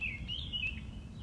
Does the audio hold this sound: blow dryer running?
no